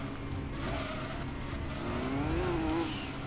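A Le Mans race car in Gran Turismo 2 corners through the corkscrew at Laguna Seca, its engine humming steadily while tires squeal in a rising, wavering whine near the end.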